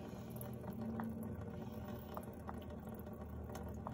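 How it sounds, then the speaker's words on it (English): Coolant drains from a Fox Body Mustang's cooling system into a pan, a faint, steady bubbling and trickling of liquid with occasional drips. "The coolant is starting to drain."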